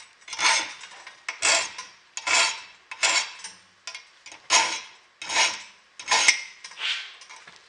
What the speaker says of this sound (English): So I'm doing 3 light files on each tooth.